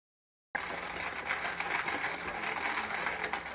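OrJoe manual hand-crank coffee grinder crushing beans to a coarse grind, a continuous gritty crunching and whirring that starts abruptly and keeps a steady, close-up texture.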